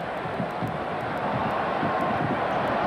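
Restless crowd murmuring steadily throughout a Chicago Bulls basketball arena during a game against the Detroit Pistons, a dense, even roar with faint squeaks and bounces, no distinct cheer.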